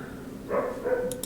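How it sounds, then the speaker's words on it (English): Dogs barking in the background of a home workshop during 3D printer setup, two short barks spaced a moment apart, fairly faint and distant with no talking over them. "I'm sorry if you can hear my dogs bark in the background."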